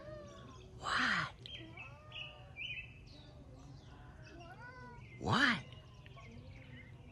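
A cat meows twice, a few seconds apart, fairly close, with soft bird chirps in the background and a person briefly speaking.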